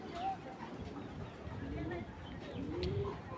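A small pigeon gives soft, low cooing calls in a bird market, faint under a murmur of background voices and ambient noise.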